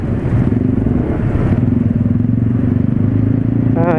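A motorcycle engine revs hard and close on a rough road, a loud throbbing putter with rattling clatter over the top, holding steady throughout.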